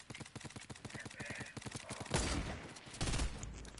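Rapid bursts of AR rifle fire in a multiplayer shooter video game, a fast rhythmic string of shots followed by louder, denser gunfire and impacts, with a voice talking over parts of it.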